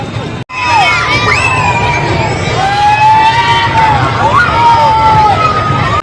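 A dense crowd mills about at the Ramdev Pir fair, a loud wash of shouting children and cheering voices, with siren-like whistles and sliding toy tones rising above it.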